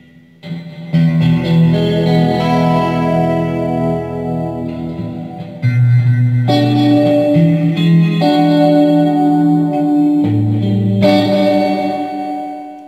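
An electric guitar plays through a Marshall Code amp set with delay and reverb, giving sustained distorted chords that change a few times and trail off in echoing tails.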